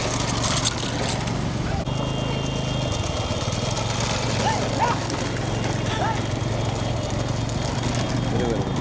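Bulls pulling carts gallop in a large-bull cart race in Sivaganga district, a steady thudding rush of hooves and rattling carts under constant engine-like drone and crowd noise, with people talking loudly throughout.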